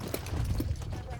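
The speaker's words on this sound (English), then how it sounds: "Fun to watch the horses run" Horses running loose in a corral during a horse drive, hooves clip-clopping in a busy, uneven patter at moderate distance, with voices talking over them.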